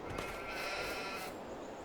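Sheep in the Farming Simulator 22 game bleat in a steady, close chorus, one sustained wavering cry running through the short stretch with no talk over it.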